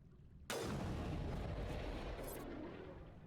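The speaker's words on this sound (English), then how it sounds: "I shot him in the neck." A sniper rifle fires once in the Mass Effect 1 Legendary Edition video game. The shot lands as a sudden loud boom, followed by a long rumbling tail that slowly fades.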